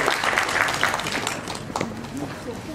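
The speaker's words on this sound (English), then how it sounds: "Let us welcome her on stage with a round of applause" Audience applause in a hall at a university Teachers Day celebration, a moderate patter of clapping that fades as a voice starts talking over it.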